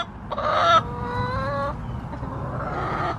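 Chickens cluck and call nearby, with a short squawk followed by a longer drawn-out cackle, then quieter clucking over low background noise.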